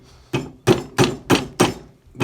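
A rubber mallet knocks a coin ring fitted on a PVC pipe, five sharp, evenly spaced thuds with a slight ringing edge, close and clear with nothing else in the background.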